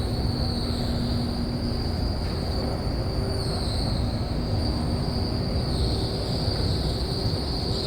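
A Montréal Métro train rolls through a station with a sustained high metallic squeal from its wheels, steady and close, riding over a continuous low rumble with no voices.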